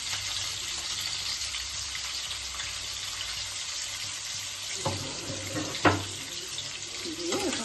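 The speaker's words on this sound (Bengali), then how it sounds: "এটা ভাজবে হচ্ছে, আমি একটু এর মধ্যে হলুদটা দিয়ে দেবো।" Fish frying in a pan for macher jhol with turmeric and salt just added: a steady, dense sizzle and hiss throughout, with a few sharper pops and clatters near the end, no voices.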